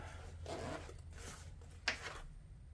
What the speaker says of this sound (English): so we got uh, a black carrying case, zippers the side